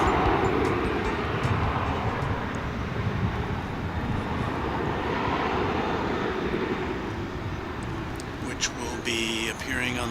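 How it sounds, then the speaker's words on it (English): An American Airlines jet departs DFW International Airport, its engine roar a broad, steady rumble filling the scene, with a faint voice near the end. "Going through your viewfinder there was American Flight 353 off to Puerto"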